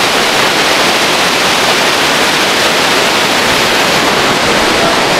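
Roaring river water along the mountain trek from Sonprayag to Kedarnath, a steady loud broadband rush with no break, close and filling the whole scene, no voices.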